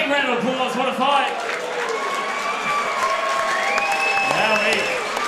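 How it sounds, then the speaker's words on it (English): The crowd at a Muay Thai fight night claps and cheers after a bout, a thick wash of applause with shouting and excited voices over it and loud voices calling out close by. "All right, guys, give a big round of applause. What a fight."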